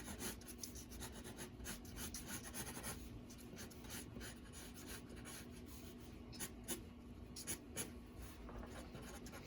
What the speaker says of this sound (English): let's go ahead and draw his wing